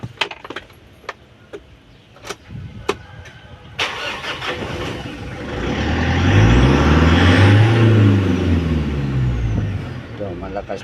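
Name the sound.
car engine being started and revved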